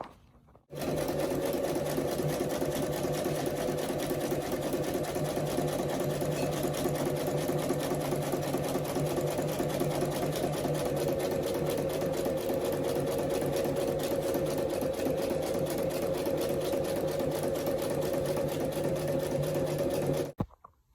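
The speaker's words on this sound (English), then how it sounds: "we're gonna feed this into the machine, go nice and slow, sew on that line all the way around" Sewing machine stitching seat upholstery for a Lamborghini Countach, running steadily and close for about twenty seconds with a fast, even mechanical chatter that starts and stops abruptly.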